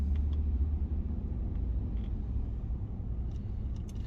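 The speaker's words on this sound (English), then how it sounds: "Stop and go traffic" A car idles and creeps along in stop-and-go traffic, a steady low engine and road rumble close by with faint higher ticks, no talking.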